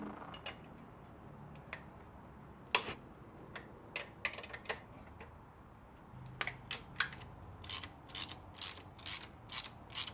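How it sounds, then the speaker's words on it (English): Hand ratchet on a long extension turning the tensioner pulley bolt of a Ferrari 456 engine during a major service, giving quiet intermittent clicking bursts that grow into faster runs of ratchet ticks. "I use a long extension with just a little hand ratchet"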